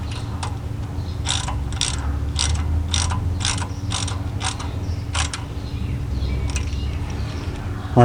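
A ratchet tightens the tie rod nut on a 2004 GMC Envoy during inner and outer tie rod replacement, its clicking pawl coming in quick bursts of strokes over a steady background hum, close by with no talk.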